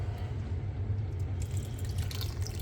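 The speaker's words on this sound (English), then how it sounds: "Okay, so I'm going to add my cup of water now." A cup of water is poured into a pot of simmering venison or beef carne guisada, giving a steady, soft pouring and trickling sound throughout with no talking.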